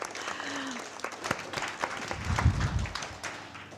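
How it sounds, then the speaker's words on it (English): Applause builds from an audience at an anniversary event of a women's peace organisation, with many hands clapping and swelling to a louder peak near the end. A little crowd murmur sits under the clapping. "I think you can applaud there."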